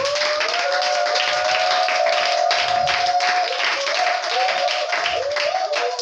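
A church congregation claps and cheers in praise of Jesus during a French-language sermon, a continuous loud wash of applause with a sustained vocal tone running underneath.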